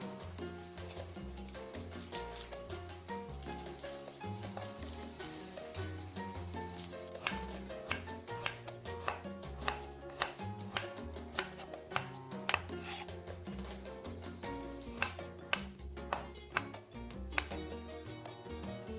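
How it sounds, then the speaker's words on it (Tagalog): Knife slicing peeled garlic cloves on a board, a run of faint crisp cuts in a loose rhythm under steady background music, growing sharper and more frequent toward the end. "About 4 cloves of garlic, peel and slice."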